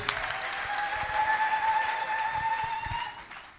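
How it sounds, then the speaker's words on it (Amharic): A church congregation in Hawassa clapping and ululating, dense sustained applause with a high wavering ululation running through it, fading at the end. "አዋሳዎች ለጌታ እልልታ ጭብጨባ አምጡ"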